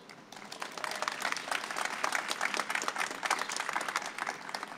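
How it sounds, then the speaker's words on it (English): A crowd at a filmmakers' cast and crew gathering claps, individual hand claps audible within a moderately sized applause that swells after a quiet start and stays lively to the end. "let's give a round of applause again to all of our 10 filmmakers"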